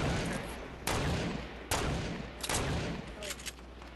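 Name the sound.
gunfire, likely from a video game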